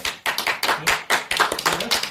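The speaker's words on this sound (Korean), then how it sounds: "박수." A small group claps after a Korean sangmo hat-spinning lesson, with about a dozen uneven, fairly close bursts of hand claps over two seconds and no talking.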